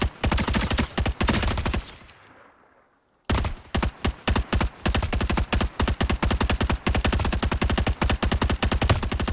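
Rapid automatic weapon fire in a video game, shot at medium range: loud sustained bursts of rounds with a brief pause partway through before firing resumes in repeated short bursts.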